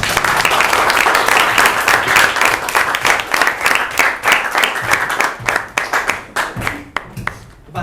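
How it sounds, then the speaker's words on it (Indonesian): An audience at a classroom-style session applauds together: dense, loud clapping that gradually thins into scattered individual claps, with a brief voice near the end. "Aplaus untuk kita semua."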